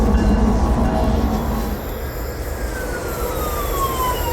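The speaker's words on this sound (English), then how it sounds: "Watch out for that train!" A BART subway train pulling into Embarcadero station inside Minecraft, a loud rumbling roll with a rising whine and a tonal glide sliding downward as it slows, close and continuous.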